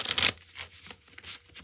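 Pulp Tarot cards riffle in a quick, crisp shuffle up close, followed by softer brushing card sounds.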